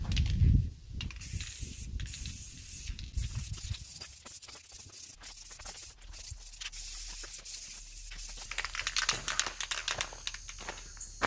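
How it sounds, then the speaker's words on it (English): Hissing spray from a rattle can of paint onto a deer feeder lid, several bursts of spray with short gaps, close, accompanied by faint handling and rustling noises. "got a little bit of rattle can right here"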